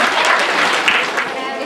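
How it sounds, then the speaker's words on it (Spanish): A Latin American conference audience applauds to welcome a social work speaker, with a dense, steady wash of clapping that stays loud and fills the short moment. "Recibamos con un fuerte aplauso a la doctora Laura Acoto"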